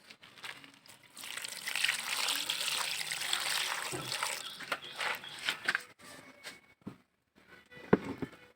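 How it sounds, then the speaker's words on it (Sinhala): Water poured into a pot of jackfruit curry, a close trickling, splashing pour for a few seconds, then faint handling knocks and a sharp clink. "ඊට පස්සේ වතුර ටිකක් දාලා මේ ලිපේ තියමු."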